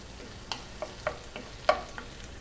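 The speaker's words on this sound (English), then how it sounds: "So let me just mix my shallots around a little." Shallots and peppers being stirred in a hot pan, a steady low sizzle broken by several soft scraping stirs of a utensil, close and fairly quiet, with no voices.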